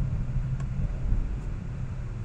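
A 2011 Infiniti G37 IPL engine revving during a test drive, heard as a low, steady rumble from inside the car with a faint hiss on top, fairly quiet and without talk.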